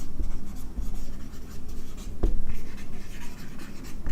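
Chalk or marker scratching across a board as a math problem is worked out, steady close strokes with one sharper tap midway, no talking.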